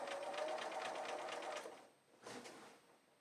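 A sewing machine stitches binding onto a scalloped quilt border, a steady close whirring run for about a second and a half, then a pause and a shorter second burst that tapers off.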